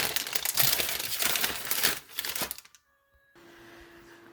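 Frozen cookie dough for low-carb chocolate chip cookies is unwrapped with loud, close crinkling and crackling of the wrapping for a couple of seconds. Quiet follows, with a faint hum at the end.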